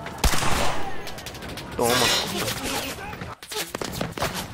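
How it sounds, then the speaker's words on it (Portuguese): Rapid bursts of automatic gunfire in a shooter video game, loud overlapping shots with a brief pause, while a player talks over the action. "Tiro, muito tiro, muito tiro."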